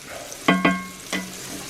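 Flour stirred into melted butter in a cast iron pan, three sharp metallic clinks of a utensil against the pan over a faint low sizzle, alone.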